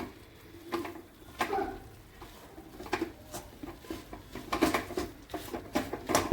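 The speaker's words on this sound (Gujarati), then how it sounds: "ઘી નાખીને ફરી એકવાર મિક્સ કરી દઈશ, જેથી ઘીના લીધે ચમક બી રહે" A spoon stirs a thick singpak sweet mixture in a pan after ghee has been added, giving soft, irregular scraping and tapping sounds, close and fairly quiet, with no talk.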